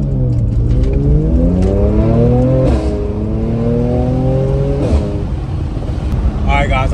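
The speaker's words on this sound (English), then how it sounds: "We're gonna give it some gas. Okay, that is definitely louder." Mercedes C43 AMG engine with its resonator deleted, revving hard as the car accelerates, the pitch climbing through several gear pulls, loud and close, with people talking over it.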